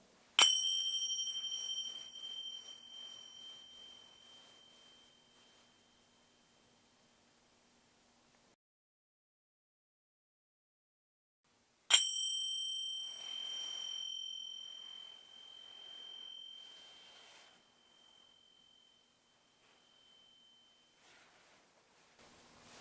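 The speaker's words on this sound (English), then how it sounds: "These are like cheap brass ones instead of bronze ones" Cheap brass finger cymbals struck twice, each strike a bright, high metallic ping that rings on and slowly fades over several seconds, with silence between the two strikes.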